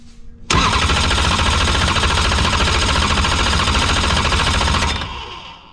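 An engine cranks over after an oil pump belt repair, a loud, rapid, steady mechanical chugging that starts abruptly and runs for several seconds before cutting off.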